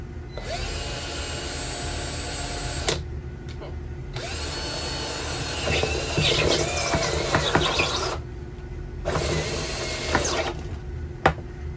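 A power drill bores through a plastic container for a homemade hydroponics setup, whirring steadily and loudly in bursts with brief pauses between runs, close to the listener.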